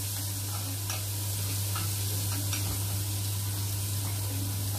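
Sauce for fatta sizzles steadily as it sautés in a pan, a constant close hiss and crackle with a low hum underneath and no talking.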